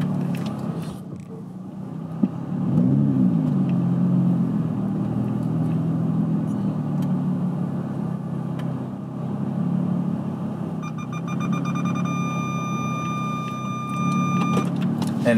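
A car engine idles and rumbles steadily close by, a low continuous drone that runs the full length with a faint high whine entering near the end.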